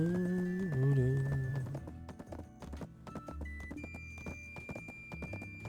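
Horse hooves clip-clop in a video game as a horse takes a fence jump. A short run of close, quick hoof taps sits under game music and sound effects.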